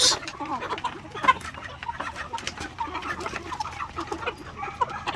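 Rhode Island Red x White Leghorn chickens cluck and chatter steadily while feeding on a farm, over a busy outdoor background, with scattered short calls near and far and no talking.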